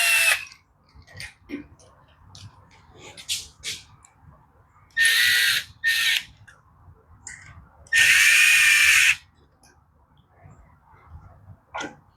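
Screws being tightened on a Coleman CT100 minibike with a power driver, several loud bursts of whirring around five and eight seconds between quieter ticks and small handling knocks, close by and with no talk.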